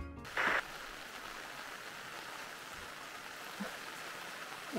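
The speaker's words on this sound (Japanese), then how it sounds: "やっぱすごい雨です。" Heavy rain pouring down at a campsite, a constant soft wash of noise with a short sharp burst near the start and a few faint knocks.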